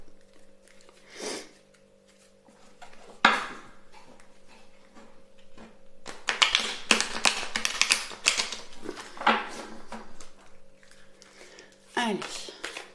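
Oracle cards being shuffled by hand in rapid riffling bursts, crisp and close, with quieter handling sounds and a faint electrical hum in the background.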